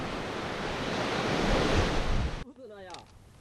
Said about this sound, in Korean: 그래서 파도가 셉니다.